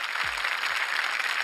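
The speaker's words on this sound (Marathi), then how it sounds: "जोरदार टाळ्या." A television talk show audience claps loudly in a steady, dense wash of applause that lasts the whole moment, with no voices standing out.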